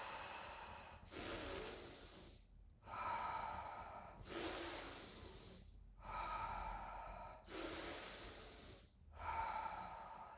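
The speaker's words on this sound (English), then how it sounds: "So it is quite a powerful breath in and out." Forceful Tummo breathing, strong breaths drawn in and pushed out through the nose in a steady rhythm, about six loud airy rushes close up, no talking.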